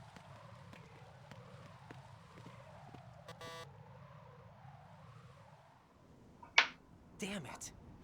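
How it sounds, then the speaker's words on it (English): A cell phone alarm in the video game Metal Gear Solid 2 warbles as a steady, wavering electronic tone for about five seconds over a low hum, then gives way to a few sharp clicks and bursts. "Is that the cell phone? It is."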